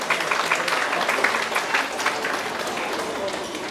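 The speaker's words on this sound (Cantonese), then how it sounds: "掌聲有請" An audience at a school's international English subject awards ceremony applauds as an award presenter is welcomed, a sustained wash of many hands clapping at moderate loudness, with a faint crowd murmur beneath.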